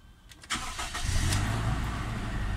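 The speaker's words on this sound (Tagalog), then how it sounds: "Toyota Innova na gasoline engine. Yan, start natin kung gagana RPM." A gasoline Toyota Innova engine cranks briefly and catches, then settles into a steady, fairly loud idle nearby with no talking.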